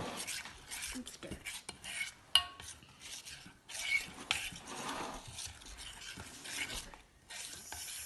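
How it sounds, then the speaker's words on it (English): Pancake batter with added milk being stirred in a bowl for a microwave recipe: a soft, close, irregular scraping and clinking of a utensil against the dish, quiet and continuous with a few sharper taps. "and stir."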